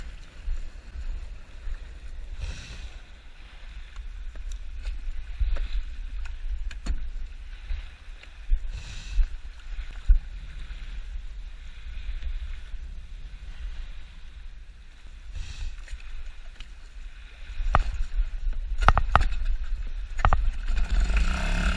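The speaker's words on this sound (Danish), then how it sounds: "Jeg henter jollen ind og læsser grejet." Small dinghy hauled in alongside a fishing boat while flatfish nets and gear are loaded aboard, with bumps, knocks and water sloshing over a low steady hum, busier clatter toward the end.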